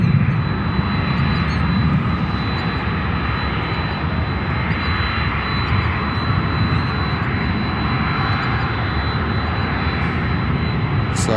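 Airliner on approach to Chicago O'Hare, a loud, steady jet engine roar with broad rushing noise filling the whole stretch, no talk over it.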